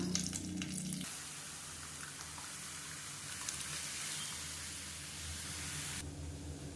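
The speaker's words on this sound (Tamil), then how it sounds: "கடுகு உளுந்து பொரிய ஆரம்பிக்குது" Mustard seeds and urad dal spluttering in hot oil for a healthy dosa preparation, a continuous soft hiss and crackle with faint popping, low in level and with no one talking.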